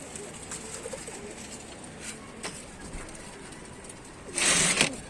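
Pigeons for sale at a market in Tanta give soft, low coos under a constant background murmur. A burst of wing flapping or rustling sounds close by near the end.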